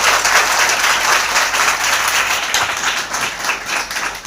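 At a school admission and girls' education festival at a rural ashram school, a crowd applauds the teachers and principal with dense, loud, sustained clapping that carries through the whole stretch with no pauses.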